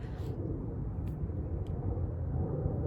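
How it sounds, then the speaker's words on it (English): An airplane passes overhead near Montana's countryside as a continuous low, even rumble that holds steady throughout, with no voices present. "I can hear the airplane"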